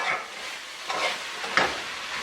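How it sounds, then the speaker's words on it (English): Curry chicken is stirred and deglazed in a pan, producing a steady close sizzle with repeated scraping strokes of a spoon across the pan bottom. "Give that a quick stir now, and we're deglazing the bottom of the pan now to pick up all that curry."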